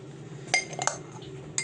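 A spoon scoops flour from a glass for an apple charlotte batter on kefir, giving a few sharp, close clinks against the glassware in a quiet kitchen.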